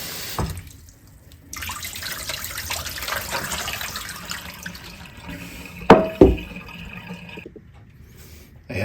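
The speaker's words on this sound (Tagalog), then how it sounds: "Hugasan ko po palang mabuti kasi yung chanterelle." Chanterelle mushrooms are rinsed under a running kitchen tap, the water splashing unevenly as the stream is interrupted and redirected, with a couple of sharp knocks near the end and no talking.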